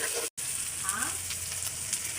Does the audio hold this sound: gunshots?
no